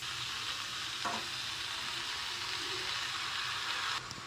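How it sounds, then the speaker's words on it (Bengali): Steady loud sizzling of boiled chow mein noodles stir-frying in a hot pan, with scraping stir sounds now and then, close by and continuous. "এবার আমি এর মধ্যে সেদ্ধ করে রাখা চাউমিনটা দিয়ে দেবো"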